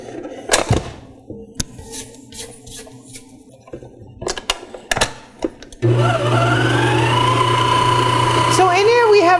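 Cuisinart SM-55 5.5-quart stand mixer switching on after scattered kitchen clatter and knocks, settling into a loud, steady motor hum with a whirring, slightly wavering pitch that runs to the end.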